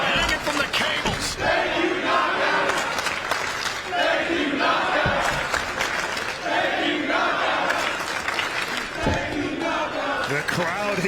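Wrestling crowd in Las Vegas during an Ultimate X match, a loud, continuous roar of cheering and shouting with rising bursts and a few sharp impacts, filling the whole stretch.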